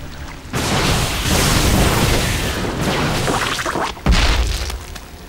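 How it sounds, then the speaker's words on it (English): Protoss army in StarCraft II firing on Zerg overlords: a dense, continuous roar of sci-fi weapon blasts and bursts, with a sharp heavy impact near the end, all loud and close with no talking. "Here comes the Protoss death ball shooting down overlords in its way."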